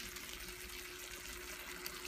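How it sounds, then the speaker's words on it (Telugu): Water pouring steadily into a pan of onion curry thickened with rice flour, a continuous soft running splash heard close and alone. "కొంచెం వాటర్ యాడ్ చేసుకుంటున్నాం."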